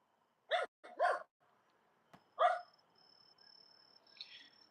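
A dog lets out a few short, sharp barks outdoors at night, spaced apart against near silence, followed by faint background noise and a thin distant tone.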